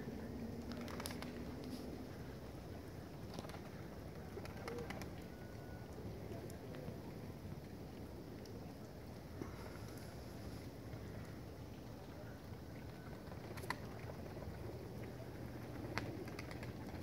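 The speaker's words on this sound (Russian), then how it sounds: "Голубь хорошо выходит в столб и играет." Pigeons fly overhead outdoors in winter, with faint soft cooing and occasional wing flaps carried over steady wind noise from a distance.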